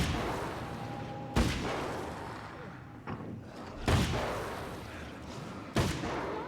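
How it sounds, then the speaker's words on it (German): Several sharp, loud bangs of flashbang grenades in Alan Wake's American Nightmare, four separate blasts spaced a second or two apart over a quiet, hissy background. "So, Flashbang."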